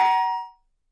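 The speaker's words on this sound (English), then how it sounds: "Just then, the doorbell rang." A single doorbell chime rings out clearly and alone, its bright tone fading away within half a second into silence.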